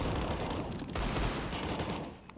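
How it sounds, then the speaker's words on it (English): Gunshots in a competitive video game match, rapid bursts of loud gunfire crowding together with only a short lull in the middle. "Can hear the shots now."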